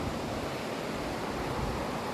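The Ten Mile River pouring into the Schaghticoke beneath a bridge on the Appalachian Trail, a steady broadband rush of flowing water, close and continuous with no talk.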